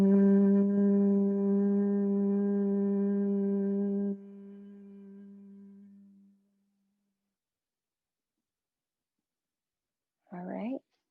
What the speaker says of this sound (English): we're going to practice what's called a honeybee breath